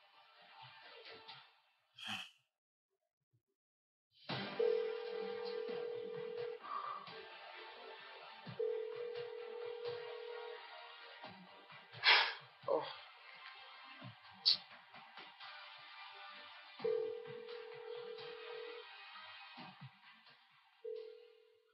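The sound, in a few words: phone ringing with no answer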